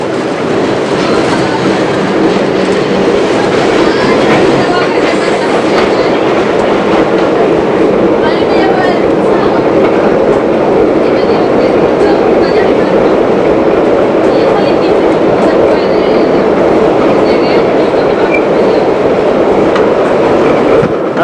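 A New York subway train of eight cars, four married pairs, runs along the tracks with a steady loud rumble and continuous rhythmic clickety-clack of wheels over rail joints, heard close from inside for a long stretch.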